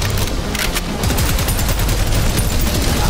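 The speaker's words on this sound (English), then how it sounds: "You can fire them together for more damage, or you can fire one at a time and then reload the other one so you can do like a non-stop firing" Dual weapons fire in the video game Prodeus, a loud rapid stream of overlapping gunshots and booms with no pause.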